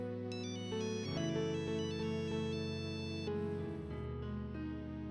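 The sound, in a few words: phone ringtone ringing nearby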